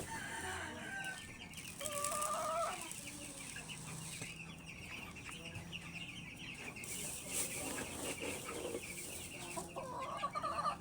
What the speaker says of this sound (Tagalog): Magagandaan ko ng aking mga sisiw kasi medyo matatakaw sila.